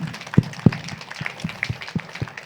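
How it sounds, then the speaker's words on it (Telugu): An audience gives a few scattered claps for the Bhagyanagar team. The handclaps are sparse and uneven, with several sharp close ones and softer ones between them, over a short stretch. "గట్టిగా ఒకసారి క్లాప్స్ కొడదాం భాగ్యనగర్ టీమ్ అంతరికి"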